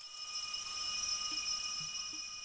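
Ring-out sound treated with delay and shimmer reverb plugins, a faint sustained high shimmering wash with steady bright overtones and a soft noisy bed, no attack, alone.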